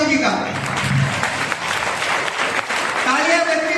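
An audience at a youth drama festival in a Surat temple applauds to welcome a guest, a sustained wash of clapping at moderate loudness with a voice speaking over it.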